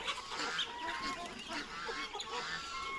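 Several chickens and a rooster call and cluck at close range on a farm, loud honking squawks overlapping in a busy, continuous chorus.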